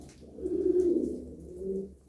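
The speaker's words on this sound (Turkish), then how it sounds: "Al sana ıskarta kuş." Pigeons kept by a bird breeder coo close by: soft, low, rolling coos in two phrases over a quiet background.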